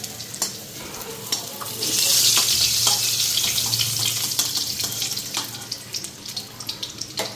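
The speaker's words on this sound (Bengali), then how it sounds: "এইদিকে সবজিটাও ধুয়ে নিলাম" Vegetables being rinsed under a running kitchen tap, a steady splashing water stream that swells in the middle and breaks into intermittent splashes near the end, close and moderately loud with no talk.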